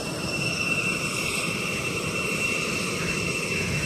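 A large American Airlines airliner at Springfield-Branson National Airport gives off a steady, loud jet engine roar that holds an even level throughout, with no voices over it.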